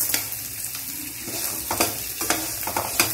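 Chickpeas frying in oil for tamarind pulihora, a close crackling sizzle punctuated by several sharp scrapes and pops as the pan is stirred, with no talking.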